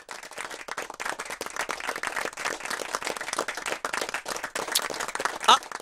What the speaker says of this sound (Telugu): అరే చప్పట్లు కూడా కొడుతున్నారే.